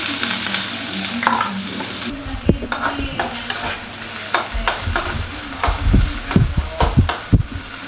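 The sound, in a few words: frying chilli, garlic, onion and capsicum in a pan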